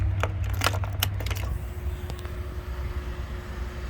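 Two sets of keys for a 2023 Kawasaki Ninja 650 jangle in a quick burst of bright metallic clinks over about a second and a half, then give way to a low background hum.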